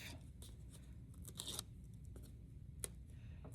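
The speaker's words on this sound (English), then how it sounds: "we're just going to take the tape off" Tape is peeled off two glued paper layers for a lighted shadow box, a few faint tearing rips close by in a quiet room.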